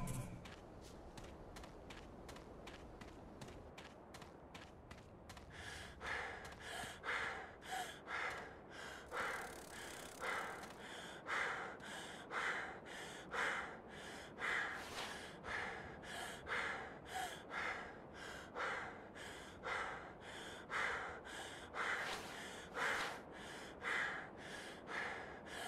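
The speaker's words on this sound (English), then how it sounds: "Once the hunter runs out of stamina, he starts panting and breathing heavily" A hunter in the video game Carnivores: Dinosaur Hunt pants and breathes heavily after running out of stamina, a steady run of loud, close, rhythmic gasping breaths that carries on for about twenty seconds with no talk over it.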